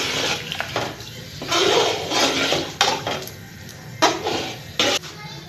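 Three potatoes being stirred in a pan, with a spoon scraping and clinking against the metal in uneven bursts, close and fairly loud, with no talking.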